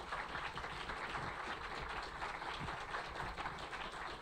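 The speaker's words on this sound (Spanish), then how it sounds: "Un aplauso, por favor, para Javier." Audience applause for Javier Mejia after his talk on social media research and business, a steady, dense wash of many hands clapping that runs evenly through the whole stretch with no voices over it.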